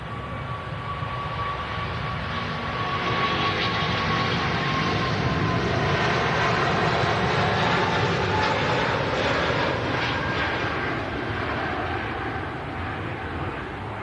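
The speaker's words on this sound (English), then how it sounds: "As the A380 thunders down the runway on its way out." An Emirates Airbus A380 takes off down the runway, its engines a broad, steady roar heard from a distance and holding level throughout, with no talk over it.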